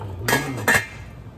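A metal lid is set onto a cooking pot of miso salmon, making two quick clinks in a kitchen, close and fairly crisp.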